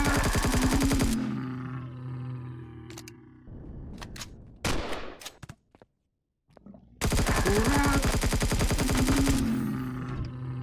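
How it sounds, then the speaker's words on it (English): Turrets in Empyrion Galactic Survival fire long, loud rapid-fire bursts, broken by a stretch of scattered single shots and impacts and a brief silence, then another sustained volley. "I just had a turret fire at me"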